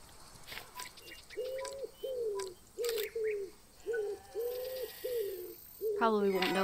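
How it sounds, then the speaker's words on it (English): A common wood pigeon in the video game Alba coos in a steady series of soft, hooting notes, with faint chirps and clicks from the game around it. "Common wood pigeon."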